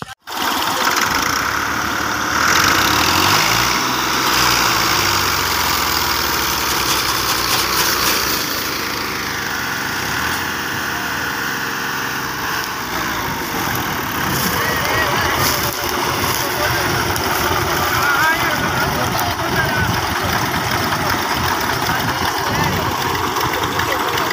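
Tractor engine laboring loudly and continuously while stuck with a trolley, a steady heavy drone with shifting strain and rattling throughout, under occasional talk.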